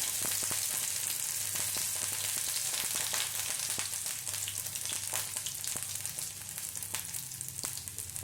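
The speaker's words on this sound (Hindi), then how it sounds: "जीरा डालने के बाद अब हम इसमें डालेंगे अदरक।" Ginger hits hot oil already holding cumin seeds, setting off a steady, loud sizzle with crackling pops and light stirring scrapes throughout.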